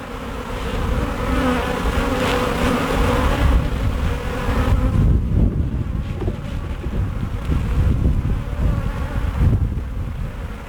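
Honeybees buzz densely at a hive in spring, a loud, steady droning hum close to the microphone that continues throughout with slight wind noise.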